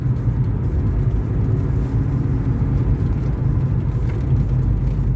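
A BMW E36 328i Sport's inline-six engine pulls steadily from inside the car, a continuous loud low drone with road rumble that holds without clear pauses through a gear change from second to third.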